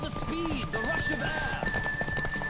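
A horse gallops with rapid clip-clop hoofbeats in the video game The Witcher 3: Wild Hunt, steady and close, with game tones and a player talking over it.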